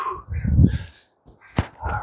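Gulls call overhead outdoors: a harsh, mid-distance cry, a short pause, then a second call, with a sharp thump between them.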